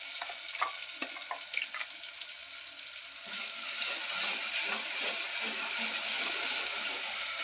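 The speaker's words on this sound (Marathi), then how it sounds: "तेल तापायला ठेवले. आता त्यात आता मसाला टाकायला लागले." Ground spice masala sizzles in hot oil in a pan for an egg curry, a steady broadband frying hiss that grows louder after the first few seconds, with a few scraping stir clicks early on and no talking.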